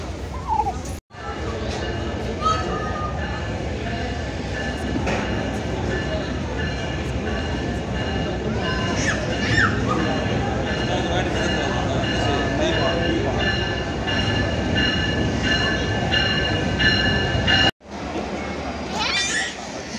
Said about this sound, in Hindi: ट्रेन आ रही है। इधर आ जाओ।